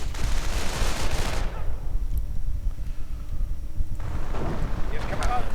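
Anti-tank gunfire in a video game battle: a dense burst of booming shots and explosions, a short quieter gap, then more blasts resume, all loud and close.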